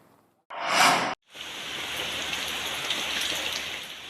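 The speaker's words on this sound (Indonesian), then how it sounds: "Hujan deras disertai angin kencang kembali melanda kota Jayapura" Heavy rain with strong wind lashing the city of Jayapura, a steady, hissing downpour that holds after a brief burst of louder noise at the start.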